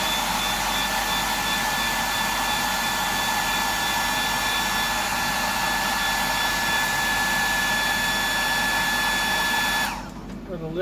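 A blow dryer roars steadily and loud, close by, drying fresh paint on a fishing lure, then cuts off abruptly near the end.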